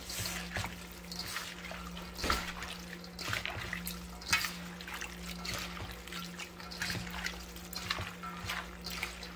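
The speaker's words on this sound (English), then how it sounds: "So right here I have like 4 cups of warm water, okay? I'm gonna add that in there." Warm water sloshes and trickles as it is mixed by hand in a bowl for pickled pig ears, giving soft, continuous liquid churning with small splashes over a low background hum.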